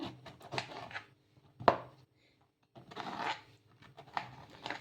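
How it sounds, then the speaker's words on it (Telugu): A kitchen knife chops bottle gourd into pieces on a board. Quick bursts of close, crisp taps are split by a brief pause, with one louder knock partway through. "సొరకాయని అయితే ముక్కలు ముక్కలుగా కట్ చేసేసుకుందాం"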